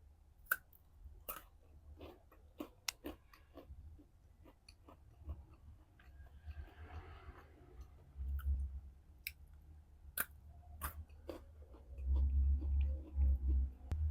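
Someone chews a KitKat bar in quiet, crisp, irregular crunches and clicks heard up close. Soft low thumps join in toward the end.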